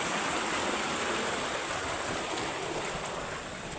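A forest stream rushes continuously, flowing steadily without pause, a broad even wash of sound close by, no voices.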